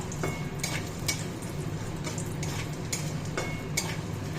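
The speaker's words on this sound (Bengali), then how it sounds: "এবার বড়িগুলো একটু ভেজে নিই হালকা" Lentil dumplings (bori) frying in leftover fish oil in a pan, a steady soft sizzle with a few sharp scrapes and taps from a spatula stirring against the metal, close and continuous with no talk.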